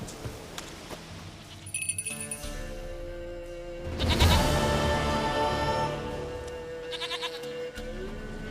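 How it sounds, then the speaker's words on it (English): A goat in The Witcher 3 video game bleats in short, clear, nasal bursts, once early and again near the end, over a quiet game ambience with faint clinks and no voices. "goat of mine, dearest, sweetest goat."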